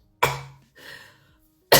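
A person coughs in two harsh bursts close to the mic, a short pause between them, then a third cough starts at the end.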